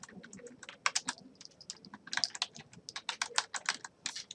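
Keys on a computer keyboard being pressed in a quick, uneven run of close, crisp clicks, with no talking over them.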